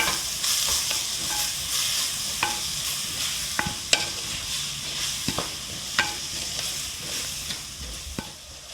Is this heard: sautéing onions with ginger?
yes